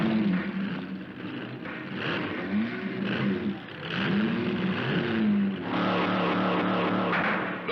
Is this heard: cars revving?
yes